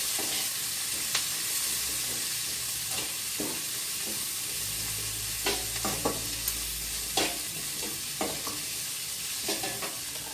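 Onions or vegetables sautéing in a pan for paneer butter masala, a soft, continuous sizzle with scattered clicks and scrapes of a spatula stirring, quiet and close with no talking.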